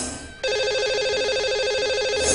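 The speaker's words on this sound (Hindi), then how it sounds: "चलिए इन्हें लगाते हैं हम कॉल।" A telephone rings out steadily on a line being dialed to reach a radio show caller, a loud continuous electronic ring tone that starts abruptly after a short moment of quiet and carries on alone.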